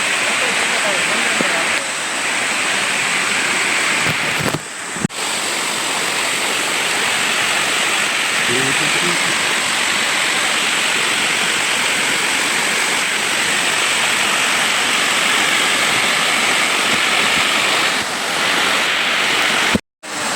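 Floodwater rushes through a forest in a steady, loud broadband roar like a waterfall or stream, with wind buffeting and occasional brief bumps over the continuous flow.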